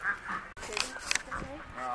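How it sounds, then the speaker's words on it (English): Ducks at a backyard poultry pen, a few nasal quacks and honks close by, mixed with people talking. "Soph, do you want to feed the ducks?"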